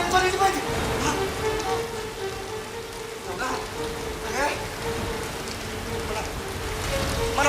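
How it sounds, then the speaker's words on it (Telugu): Steady rain sound effect from a Telugu stage play, a continuous hiss of falling rain with faint tonal hum underneath, moderately loud throughout. "వర్షం కురుస్తూనే ఉంది."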